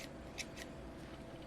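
Scissors trim yarn in a few quiet, crisp snips close by, set against a soft, steady background hush.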